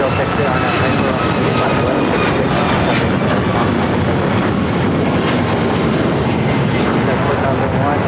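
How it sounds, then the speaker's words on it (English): A Japan Airlines Boeing 777-300 arriving from Tokyo Haneda and landing on runway 24 right at LAX: a dense, loud, continuous jet rumble and rush that never lets up, with voices talking over it. "Japan Airlines at 777-300 coming up from Tokyo Haneda, arriving on 24 right."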